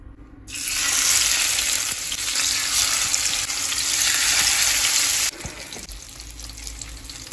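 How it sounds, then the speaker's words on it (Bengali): Loud, steady sizzling of salmon frying in hot oil, a dense hiss that drops suddenly in level near the end, with no voices. "রাখা মাছটা এবার ভেজে নেবো"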